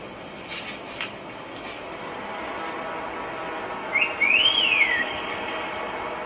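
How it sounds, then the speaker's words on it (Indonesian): A single rising and falling whistle rings out over a quiet outdoor background, brief and clear, after a few soft knocks. "Ada yang bersiul, guys."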